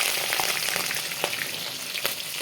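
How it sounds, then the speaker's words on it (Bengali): Shrimp sizzle in hot oil with cumin seeds, a dense steady crackle broken by occasional sharper pops and spatters, close and continuous with no talking. "চিংড়ি মাছগুলো একটু লাল করে ভেজে নিই।"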